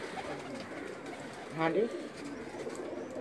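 Breeder pigeons cooing in a loft, one clear soft coo rising briefly in the middle over a murmur of background voices and ambient noise.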